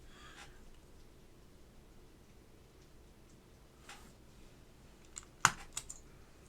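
Keystrokes on a Jacky Design Hippo TKL keyboard fitted with Alps SKCL Cream switches, scattered sparse clicks in a quiet room, ending in a short louder burst of taps.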